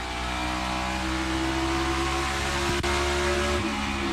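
Stock car race engine during a night practice session at an oval, roaring steadily at high revs and lifting off the throttle briefly in the corner, loud and close with no talk.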